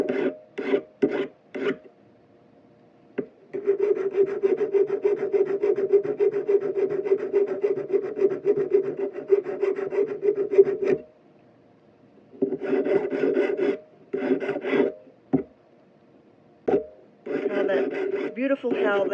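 A hand file rasps across the seam of a metal ring shank, with a long, steady run of even strokes between shorter bursts and pauses. Someone seems to talk nearby at times.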